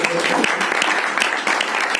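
Church congregation clapping during a pastor's sermon, a dense steady patter of many hands filling the whole stretch at close range with no talk over it.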